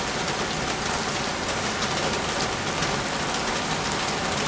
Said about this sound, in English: this rain is starting to get a little, it's like sunny shower right now